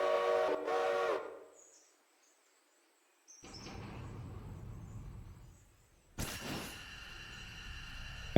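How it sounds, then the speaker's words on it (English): A locomotive in the Railroader train simulator sounds a whistle at the start, followed by silence, then a low rumble of rolling wheels builds and another loud whistle blast cuts in near the end. "the locomotive is almost here"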